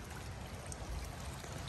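Pacu fish splash in a backyard pond, a steady watery churning and trickling with low rumble, fairly loud and continuous throughout, no voices.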